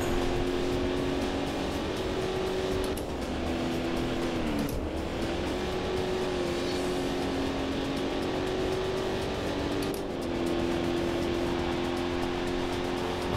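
Corvette C4 engine racing in a video game, a steady droning engine note held at high revs with brief dips as it shifts gears, continuous and loud with no talking.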